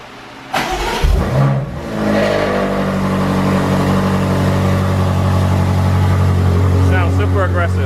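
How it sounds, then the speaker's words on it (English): A BMW M8/M5 (F90/F93) fitted with new downpipes cold-starts with a loud crank and bark, then settles into a steady, loud, rumbling high idle that holds close and alone. "crank this thing up and see what the cold start sounds like"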